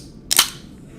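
A can of Big K Diet Cola cracked open: one sharp, close pop and hiss of escaping gas, brief and alone in quiet surroundings.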